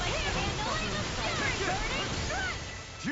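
A water spell cast in the Tales of Arise video game, with a wide rushing, sloshing whoosh and sweeping swirls that fill the whole moment, mixed with battle effects and voices.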